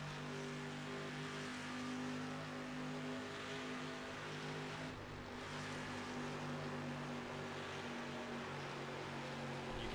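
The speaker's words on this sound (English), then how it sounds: "You can hear there from the 6 car barely getting out of the throttle, just maybe for 1 second, then getting right back into it" A street stock race car in a sim racing game at Darlington Speedway, a steady droning engine with tonal harmonics and a short dip around the middle where the throttle briefly lifts before the drone picks right back up.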